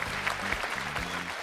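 A studio audience on a game show claps, a short burst of fairly steady, moderately loud applause that carries on without a break.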